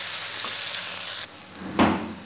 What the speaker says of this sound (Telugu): ఇలా ఎగ్స్ వేసుకొని ఫ్రై చేసుకోవాలి.